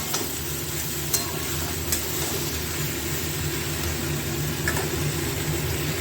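Eggplant pieces cooking in a pan over a low flame, a constant soft sizzle with an even bubbling hiss and a few faint clicks, close up and without talking.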